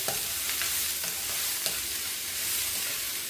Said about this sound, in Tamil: இதில் கரட்டையும் போட்டு இதோட சேர்த்து நல்லா ஒரு 5 நிமிஷம் இந்த கரட்டை நல்லா வதங்கட்டுக்கும்